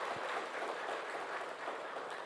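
A church congregation applauds to welcome new members during a Sunday service, a steady wash of distant, faint clapping that continues evenly without voices over it.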